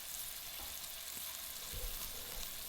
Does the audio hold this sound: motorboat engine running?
no